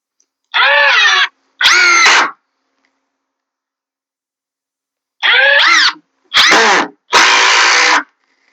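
A power drill drives screws into a wooden raised garden bed leg in five separate bursts, each a loud close whine rising in pitch, with short quiet gaps and a long pause between the second and third.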